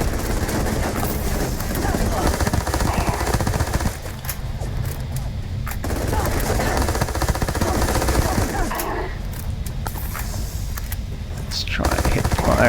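Kraken weapon in Starfield firing in sustained loud automatic bursts, a dense rattling stream of game gunfire that briefly drops off twice before resuming.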